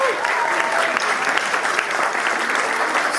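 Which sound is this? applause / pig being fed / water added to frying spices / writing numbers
applause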